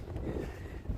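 Steady wind buffets the microphone with a constant low rumble along a riverside walk in Tokyo during cherry blossom season, with no talk.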